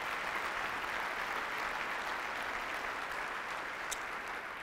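Audience round of applause for the NJROTC at a school district State of the District event, an even, moderately distant wash of many clapping hands lasting several seconds without talk.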